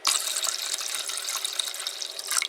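Tap water pours steadily into a sous vide cooking container, a continuous close splashing hiss with small surges near the start and end, and no voices.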